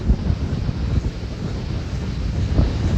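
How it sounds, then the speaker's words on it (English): Cold wind buffeting a microphone during a half marathon at Walt Disney World, a loud continuous low rumble with gusty thumps, no speech. "Sorry if it's really, really windy right now."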